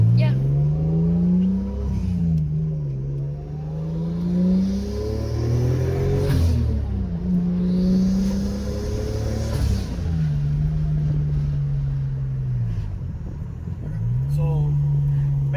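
A Datsun 280ZX with a boost controller on a test drive, its engine droning steadily and revving up and down in repeated pulls with gear changes, loud and close throughout.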